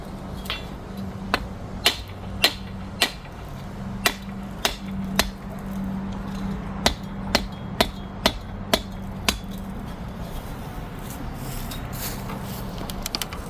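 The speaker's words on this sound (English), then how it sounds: "Sometimes your hammer breaks, you just turn it sideways." A hammer turned sideways pounds a stake into garden ground, giving about fifteen sharp, separate knocks at an uneven pace, close and clear over quiet outdoor background.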